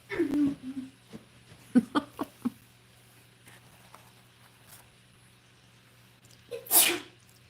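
A single sharp sneeze near the start, followed by a few soft clicks and a second burst of noise near the end.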